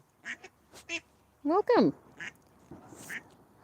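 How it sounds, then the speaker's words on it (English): Mother ducks quack loudly near a pond with their ducklings, several sharp honking calls in short bursts, with a person speaking briefly in between. "the mamas have been yelling at me, but all the babies are in there"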